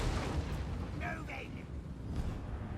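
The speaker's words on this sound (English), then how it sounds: "here comes the artillery. That's not good." Artillery barrage in the Total War: Warhammer campaign with Greenskins and goblins, a steady dense rumble of distant booms and blasts under ongoing battle noise, with a voice talking over it.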